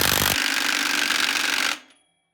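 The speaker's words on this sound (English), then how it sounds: "Now I'm going to put on a bigger socket and go over here and tighten down the axle nut." A power tool with a socket runs hard on the axle nut of a 1971 Triumph T120 motorcycle: a loud, steady mechanical rattle and whir lasting nearly two seconds, then cutting off abruptly into a short fading tail.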